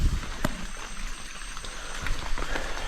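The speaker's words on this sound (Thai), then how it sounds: "ฝนก็เบาแล้วครับผม แต่ฝนก็ยังอ่อยวะ" Light rain falls steadily outdoors during a fishing outing, a soft continuous hiss broken by a couple of sharper nearby taps.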